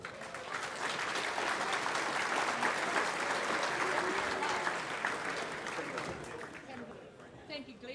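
A live audience at a Marlborough fundraising event applauds a guest speaker with sustained, even clapping from many hands. It stays loud and steady for several seconds before tapering off.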